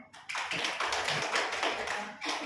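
A classroom of schoolchildren claps hands together in a brief burst of dense, overlapping claps, fairly close, fading slightly near the end before a final flurry.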